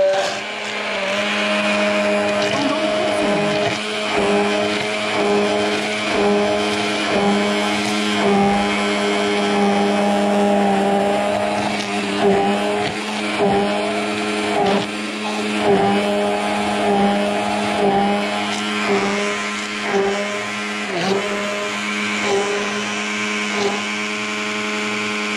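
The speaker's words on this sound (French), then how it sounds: "On vient mixer." A blender whirs steadily for about 25 seconds, mixing a skin care preparation for treating a Newfoundland dog's oily coat, loud and continuous with small shifts in pitch, no talking.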